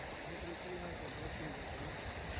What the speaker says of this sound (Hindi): इस साइड पे जो रोड है इसके नीचे से पानी जा रहा है